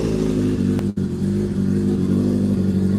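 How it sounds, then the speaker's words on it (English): Warmed-up motorcycle with a full header-back exhaust, no catalytic converters and no mufflers, droning loud and close at a steady idle with a brief blip of revving, no talk. "We're gonna give you guys a couple revs."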